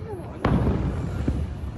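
Bombing explosions in Venezuela: a sharp blast cracks out, followed by a second fainter thump, over a rumbling, noisy night background.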